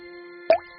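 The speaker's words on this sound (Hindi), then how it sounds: "जहां से पानी की बूंदें टपक रही थीं।" A single water drop dripping from a roof lands with a short plop against a faint steady hum, otherwise quiet.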